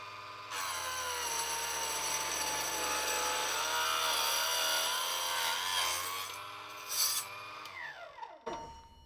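A Proxxon KGS 80 saw cuts through 1/4 inch acrylic, a loud, steady high-pitched whining buzz of blade on plastic that ends as the motor spins down and stops.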